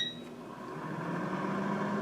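A food dehydrator being started to dry fresh ginger root gives a brief beep at the very start, then a steady fan whir that holds close and even.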